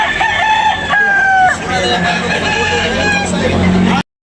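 A purebred fighting rooster crows loudly and close by, a long drawn-out call repeated amid other fowl clucking and faint background noise.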